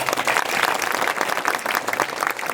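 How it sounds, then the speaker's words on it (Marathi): An audience at a kirtan religious gathering in Buldhana claps together. The dense, steady applause is loud and close and carries on without a break. "सगळ्यासाठी टाळ्या वाजवा"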